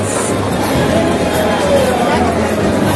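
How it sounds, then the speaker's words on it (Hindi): A busy Kurla railway station in Mumbai fills with a loud, steady crowd babble. Many voices chatter at once, without pause, under close talk. "ये भीड़ भाड़ वाला है कुर्ला रेलवे स्टेशन है"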